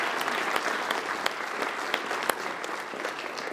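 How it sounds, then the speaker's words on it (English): A crowd claps steadily, dense applause filling the room at a fairly even level with a few sharper individual claps standing out. "So if we could just clap our hands for a moment."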